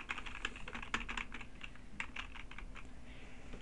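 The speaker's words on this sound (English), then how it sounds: "You can type in the information directly into it." Typing on a computer keyboard to enter text into a Photoshop note gives quick, irregular clusters of soft key clicks, close and fairly quiet, with a brief pause and no voices.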